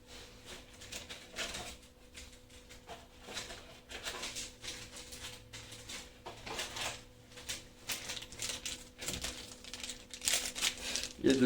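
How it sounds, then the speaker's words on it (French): Trading card booster pack wrappers crinkle and rustle in short, irregular bursts at close range, with quiet pauses between the handling sounds of opening the packs. "On va s'ouvrir les sachets maintenant."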